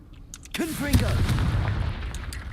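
A Confringo explosion spell cast in a Harry Potter video game, heard as a sharp blast followed by a rumbling burst and fading crackle, moderately loud, with a faint voice near the start.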